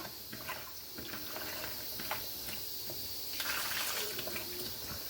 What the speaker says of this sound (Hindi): अच्छे से मसलने के बाद आपने 3 से 4 पानी इन्हें अच्छे से धो लेना है